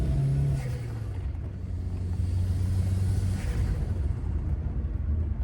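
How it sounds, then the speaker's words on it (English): Ford Focus engine fitted with an open Group A Cosworth-style air filter gives a steady, loud low rumble with a slight rise in tone, heard alone with no talking. "Who loves an open filter, like a Group A Cosworth filter?"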